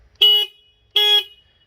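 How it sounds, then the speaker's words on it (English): Stock horn of a Triumph Street Triple motorcycle sounding two short, thin, reedy beeps of equal length separated by a brief silence, close and clear against a quiet background. "motorcycle horns generally sound pathetic, and I think the Triumph Street Triple sounds the most pathetic."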